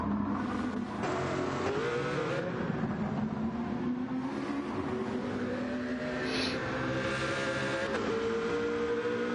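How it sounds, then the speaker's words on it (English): AMG race car engine at a circuit during a race, a continuous loud droning roar with rising and falling revs as it accelerates and shifts, steady throughout with no talk. "And then his trusty AMG. The car does sound great."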